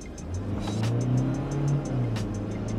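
A Toyota Innova Reborn with the 2GD diesel engine revs up close and loud, its engine note rising and falling through a couple of throttle blips.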